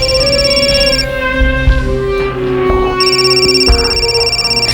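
A telephone rings repeatedly at an incoming call, a steady electronic ringing pattern over a dramatic music bed in a crime drama scene, loud and close.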